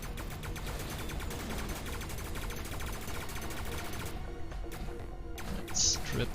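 Rapid, continuous heavy weapon fire from a Gauss cannon in a video game, a dense loud stream of repeated shots sustained for several seconds during a boss fight with anti-missile defenses, ending in a brief burst.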